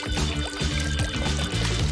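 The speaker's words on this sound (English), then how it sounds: "We just need to pour some of the milk in with the egg." Milk poured from a container into egg for a kitchen recipe, a short liquid glugging and splashing with repeated gurgling pulses, close and fairly loud.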